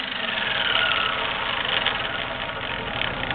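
A JET Arboga 20-inch drill press runs at 1070 RPM, giving a steady, even motor hum and whir with no change throughout and no voices.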